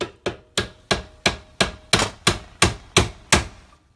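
Hammer striking a door hinge pin on a 2006–2013 Chevy Impala to drive it out, eleven sharp, evenly spaced metallic blows about a third of a second apart, close and loud with no talk.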